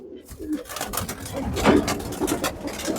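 Pet pigeons cooing close by in a loft during a garlic-water remedy for cold, a continuous run of soft, throaty rolling coos, fairly loud and near, filling the whole moment.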